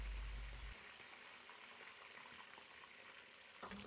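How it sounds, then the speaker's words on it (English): Fish frying in a pan, a soft steady sizzle and bubbling hiss that runs throughout, faint and even, with a low thump at the start and no voices. "So this is how I fry my fish."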